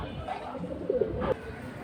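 Pigeons coo softly in a brief, low, rounded call amid the murmur of a pigeon market, with a voice faintly in the background.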